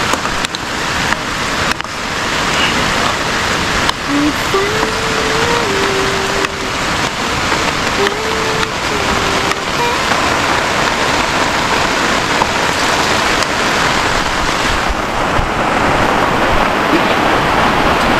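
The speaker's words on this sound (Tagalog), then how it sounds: "lumalakas na naman ulan" Heavy rain pours steadily at a riverside campsite, a loud, dense, unbroken hiss that lasts the whole time, with a faint tonal hum drifting through it partway.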